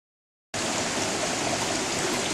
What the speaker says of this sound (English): We're at the creek,